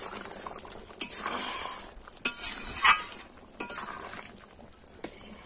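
Ground garam masala is stirred into simmering chicken curry in a pan: a spoon scrapes and clinks against the metal in irregular strokes, close up, over a soft bubbling sizzle.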